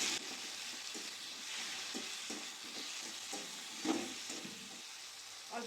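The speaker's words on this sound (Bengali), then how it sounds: "ভালো করে মশলাটা কষিয়ে নেব।" Spice paste with tomato, chili paste and a little sugar frying in a pan for a Bengali chicken and potato curry, a steady faint sizzle broken by soft scraping stirs, heard close with no talking.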